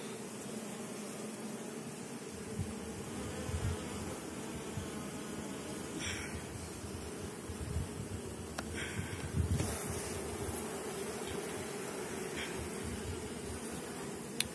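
Carniolan honey bees buzzing on a hive section frame, a dense continuous hum close by with faint clicks and rustles of handling, no talk.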